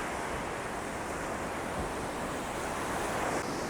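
Sea waves wash onto a Sydney beach in a steady, broad surf roar, mixed with wind buffeting the microphone, continuous and fairly close.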